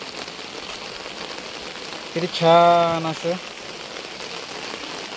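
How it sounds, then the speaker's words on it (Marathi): Rain falls on a village road in a steady, even hiss that continues throughout, with a voice speaking briefly in the middle. "आणि ह्या सुंदर पावसामध्ये आणि सुंदर या रोडवरती पाऊस पडतोय"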